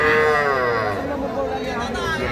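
A heifer calf at a cattle market lets out a drawn-out, wavering moo close by, with voices and market chatter under it.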